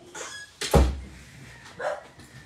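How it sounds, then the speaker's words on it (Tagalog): A few short barks from dogs kept at home, one loud close bark followed by fainter, scattered yips in a quiet room. "Iyon ang mga aso ko."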